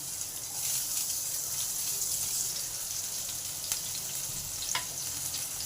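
Crushed garlic and chopped green chillies frying in a pan, with a steady close hiss of sizzling oil throughout and a couple of brief scrape accents from stirring.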